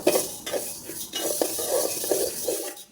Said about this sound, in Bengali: মুগ ডালটা সুন্দর করে ভেজে নিচ্ছি